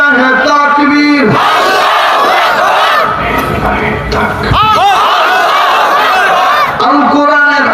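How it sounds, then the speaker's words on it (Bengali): A crowd at a religious gathering chants the Islamic slogan Allahu Akbar together in loud unison, the shouted responses rising in waves, with a leader's amplified voice and the massed voices overlapping throughout. "সবাই মিলে একই তালে একই সুরে দাও না স্লোগান লিল্লাহি তাকবীর"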